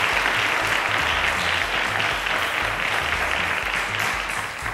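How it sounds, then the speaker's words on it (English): Steady, dense audience applause at a televised quiz competition for seniors, sustained across the whole stretch with low music underneath and no pauses. "A round of applause to Lawal."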